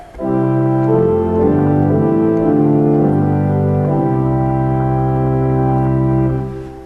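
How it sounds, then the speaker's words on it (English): Sustained pipe organ chords on an open diapason stop, full and steady, played alone with slow shifts between harmonies before fading out. "The front row over here on the right is an open diapason that sounds like this."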